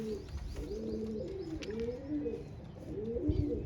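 Several pigeons coo nearby in low, rolling overlapping calls, a soft continuous murmur of cooing with a faint thump near the end.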